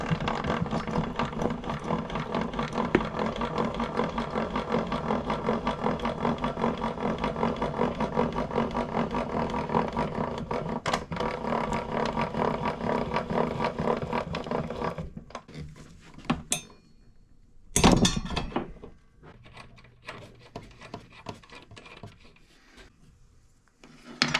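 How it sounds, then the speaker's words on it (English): A throat plate being unlocked and pulled out of a Dewalt DWE7485 jobsite table saw, dense close rubbing and handling noise for about fifteen seconds, then quieter scattered clicks and one sharp knock. "I'll take the throat plate off. Gotta unlock it. Pull it out."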